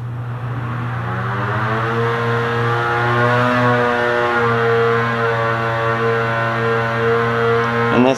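Polaris Matryx 850 snowmobile engine on a dyno, a sustained loud wail that sweeps steadily up in pitch over several seconds during a full pull, then cuts off sharply at the end.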